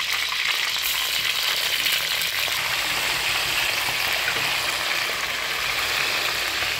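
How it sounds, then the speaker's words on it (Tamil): Pieces of cleaned chicken fry in hot spiced oil, giving a loud, dense, continuous sizzle and crackle close up, steady throughout with no talking. "இது நம்ம க்ளீன் பண்ணி வச்சுருக்கக்கூடிய சிக்கனை இதில் எடுத்து போட்டுடலாம் எல்லாத்தையும்."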